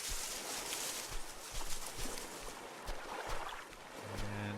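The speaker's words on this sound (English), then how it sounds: "Grab our trusty raft." A raft drifts on the open sea in the survival game Stranded Deep, a steady wash of water and wind with soft sloshing bumps. A faint low hum sets in near the end.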